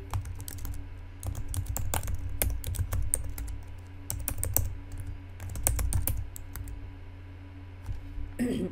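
Rapid, uneven bursts of clicking from a computer keyboard being typed on, close and fairly loud, with brief pauses between runs of keystrokes and a steady low background hum.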